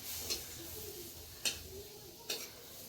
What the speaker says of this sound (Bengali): তো এই যে আমাদের ভাজা চলছে